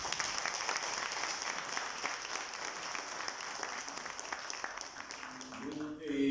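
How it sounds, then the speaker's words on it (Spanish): Sustained applause from an audience at a book presentation in Xalapa, Mexico, fills the room, steady and fairly even, fading slightly near the end as a voice begins. "Recibámoslo con un fuerte aplauso"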